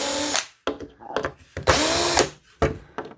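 Power drill driving screws out of a P-51 pedal plane, three loud bursts of whirring separated by short pauses, close up, with quieter handling clatter between them.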